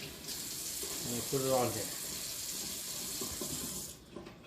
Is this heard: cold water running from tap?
yes